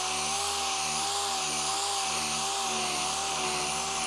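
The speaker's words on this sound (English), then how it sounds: "Any place that I can hit with that sander, I'll use the 600 on the machine" A machine sander with 600-grit paper works over car paint in a garage, giving a continuous, loud whirring drone with a steady high whine that rises and falls slightly as it moves across the panel.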